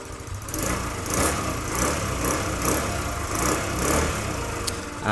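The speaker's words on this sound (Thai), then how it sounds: "มาฟังเสียงท่อกันหน่อยดีกว่านะฮะ ท่อเดิมนะฮะ" Malaguti Madison 150 scooter from 2022/23 running on its stock exhaust, a steady close putter with gentle rhythmic pulses in the engine note and no talking.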